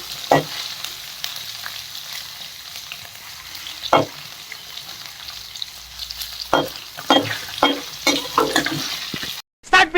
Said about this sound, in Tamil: நல்லா ஓரளவுக்கு பொன்னிறமாக வர்ற வரைக்கும் நல்லா வறுத்துக்கோங்க